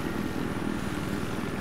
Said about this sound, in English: using a helicopter or a vehicle on a small map like this